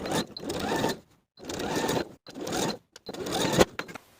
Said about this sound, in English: Sew the panel in place on this side with a 1/2 inch seam allowance.